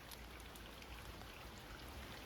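Steady rain falling outside, a soft continuous patter and hiss of drops on surfaces, even and moderately distant with no voices.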